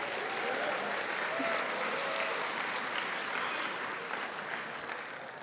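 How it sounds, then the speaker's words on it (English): Audience applause at a high school varsity athletics celebration: steady, fairly distant clapping from a crowd that holds throughout and thins slightly toward the end. "Let's give them all a round of applause."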